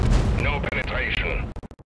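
A World of Tanks tank cannon firing: one heavy boom up front that rolls on with a ringing tail, then a short run of clipped metallic thuds at the end.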